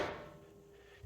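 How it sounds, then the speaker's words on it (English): The catalytic combustor housing on a Superior WRT3920 wood stove drops open as a lever is pulled, giving a brief metallic clunk that fades into a faint ringing tail. "What you heard was this housing went down and opened the passage to the chimney."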